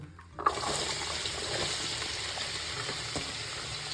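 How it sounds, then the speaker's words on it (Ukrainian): Diced onion sizzles in heated oil in a pan for borscht dressing, a soft, steady frying hiss that starts abruptly after a brief quiet moment, with a light knock of stirring. "Помішуючи, обсмажуємо до м'якості цибулі."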